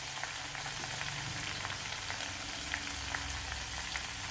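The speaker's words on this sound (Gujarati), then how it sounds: "સરસ એવા ક્રિસ્પી કડક થાય ત્યાં સુધી આપણે તળાવવા દઈશું" Corn kernels fry in oil over a medium-low flame, giving a steady, even sizzle with scattered soft pops, close and continuous with no voices.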